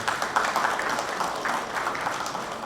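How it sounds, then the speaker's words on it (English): At an annual general meeting and conferment ceremony in Lagos, the audience claps in a short, moderate round of applause, a steady patter of many hands with no talk over it. "I think we should give them a round of applause."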